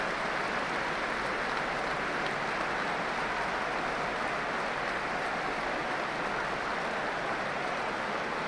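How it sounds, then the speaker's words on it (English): Liverpool supporters at a Tottenham Hotspur v Liverpool League Cup semi-final applaud as Spurs player Rodrigo Bentancur is carried off on a stretcher, a steady, dense wash of stadium clapping that holds evenly throughout. "the Liverpool supporters joining in the applause for the stricken Rodrigo Bentancur as he is taken off by stretcher"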